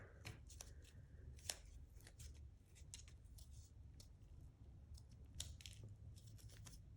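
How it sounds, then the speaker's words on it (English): Scissors snip through paper while cutting out paper snowflakes: quiet, crisp cuts in quick irregular clusters over a soft background hiss, close to the listener. "when you're cutting out shapes, move the paper. Don't move the scissor."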